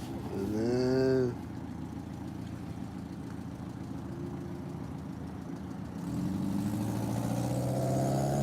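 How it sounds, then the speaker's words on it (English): A car engine idles with a low steady hum for several seconds, preceded by a brief rising tonal whine and growing slightly louder near the end. "There's an engine sound behind me."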